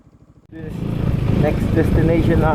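A Yamaha XMAX 300 scooter engine starts up and runs steadily nearby, its low rumble continuous under people talking.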